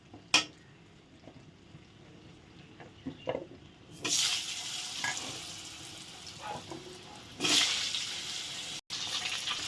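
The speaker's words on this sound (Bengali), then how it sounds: "এখন আলুগুলো কেটে রাখা আলুগুলো দিয়ে দেবো" Cut potatoes added to hot oil already spiced with black cumin tempering: a soft sizzle with scattered clinks and stirring, then two louder bursts of hissing frying as more pieces go in, near and without speech.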